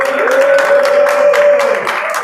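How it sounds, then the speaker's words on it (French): Studio audience applauding a new participant stepping forward on a French dating show, dense steady clapping over a sustained tonal background, with voices mixed in. "Applaudissez-le."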